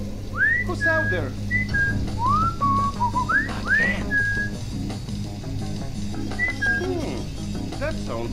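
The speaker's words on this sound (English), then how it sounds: "Is someone whistling for me to come over?" Someone whistling in Splinter Cell Chaos Theory aboard a cargo ship: a string of short rising and falling whistled notes over low machinery hum, with speech mixed in.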